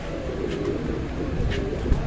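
Pigeons cooing softly in a loft at a pigeon seller's shop, a low, steady murmur of coos over background noise, brief and without speech.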